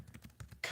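Quick keystrokes tap on a computer keyboard, a faint, close run of several clicks in an uneven rhythm, ending in a slightly louder burst, with no talking.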